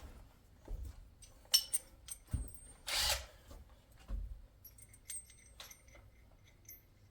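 Metal tools and hardware clink and rattle in short, irregular bursts as a bolt setup with washers is fitted during a roof repair on a house flip, close and fairly faint, with no voices.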